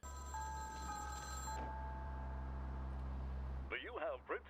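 A telephone rings steadily in a vampire video game, a sustained electronic bell tone held for about a second and a half over a low constant hum, followed by a man's speech near the end.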